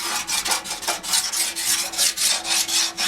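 Primer being sanded on a Yamaha FZR motorcycle body panel by hand, a steady run of close, rhythmic back-and-forth rasping strokes, about four per second.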